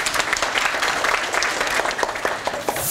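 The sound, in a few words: audience applause for Priyanka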